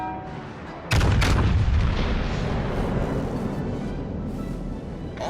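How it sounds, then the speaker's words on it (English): Naval artillery fires at an enemy warship in the World of Warships: Legends video game: one sudden heavy boom lands after a second of quiet, then a long rumbling roar slowly fades, with no talk. "Concentrate fire on the enemy warship."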